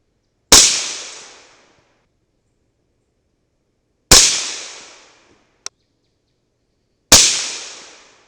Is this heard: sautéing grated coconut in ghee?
no